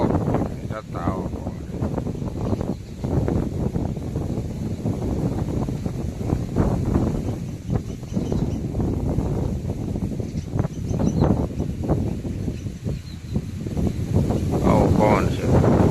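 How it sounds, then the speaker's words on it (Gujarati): Strong wind blows in a village outdoors, buffeting the microphone with loud, continuous roaring gusts that rise and fall, and voices can be heard through it. "ફૂલ પવન છે."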